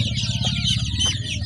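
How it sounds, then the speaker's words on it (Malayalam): Native country chicken chicks peeping in quick, high chirps over a steady, rhythmic low clucking, close by and continuous. "നാടൻ കോഴി തന്നെയാണ് ഇത്."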